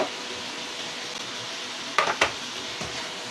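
Onions frying in a pan for Filipino pancit guisado, a soft continuous sizzle with a few sharp clinks of a utensil against the pan near the end.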